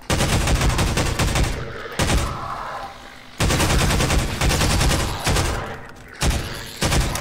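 Rapid automatic gunfire in the Half-Life 2 MMod video game, loud close bursts of shots separated by short pauses, each burst a dense rattling volley.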